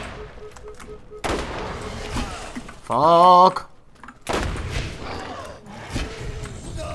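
Gunfire in the Borderlands video game, a few sharp separate gun blasts with a whirring weapon sound between them, while a player talks and exclaims.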